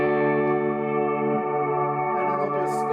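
A single guitar chord held under a reverb pedal, ringing loud and steady as a smooth washed-out drone that barely decays, with faint extra notes flickering on top toward the end.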